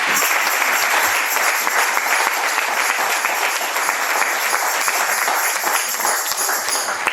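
A church congregation at a French-language gospel service applauds in praise of God, dense continuous clapping that stays loud and steady for several seconds.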